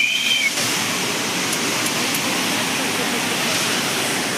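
Waterfall at Sanghagara in Keonjhar, Odisha, a loud, steady roar of rushing water filling the whole scene close by, with a brief faint tone at the start.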